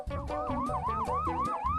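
An ambulance siren in an animated cartoon wails in a fast, repeating rising-and-falling pattern, steady and fairly near, with traffic noise underneath.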